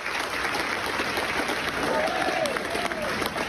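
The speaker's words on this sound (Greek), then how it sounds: "Το newsroom της Wall Street Journal ξέσπασε κλάματα και χειροκροτήματα κατά την απελευθέρωση του Γκέρσκοβιτς." Steady applause fills the Wall Street Journal newsroom at an emotional release celebration, a dense wash of clapping from a crowd of staff, with faint voices mixed in.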